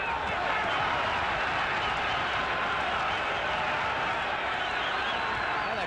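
A boxing crowd at the Garden cheers during the 1963 Rubin Carter vs. Gomeo Brennan middleweight fight, a dense, steady roar of many voices filling the arena without letting up.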